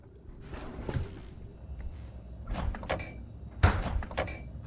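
A door opens in a quiet horror video game, with scattered creaks and knocks and a sharper thud near the end, fairly faint and without talk.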